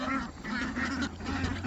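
Ducks quack continuously in the water on a small homestead, with a dense, overlapping chorus of calls from a close group.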